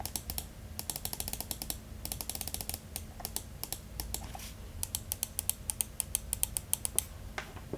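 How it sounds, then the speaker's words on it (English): Left button of an Npet M70 budget gaming mouse clicked repeatedly, sharp close ticks in quick bursts with brief pauses between runs. "So here's left click."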